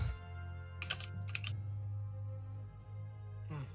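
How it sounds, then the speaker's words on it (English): Quick bursts of computer keyboard typing, a few short clattering runs of keystrokes close to the mic over a faint steady hum. "I could hear the keyboard for a moment."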